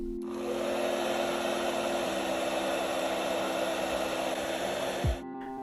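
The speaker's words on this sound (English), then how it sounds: "I recommend warming up the cable with a hairdryer." A hairdryer blows a steady, loud, close whoosh of hot air onto an iPhone XS Max display cable for several seconds, then clicks off abruptly.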